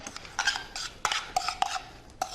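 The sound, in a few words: stirring seasoned shrimp dish in a pan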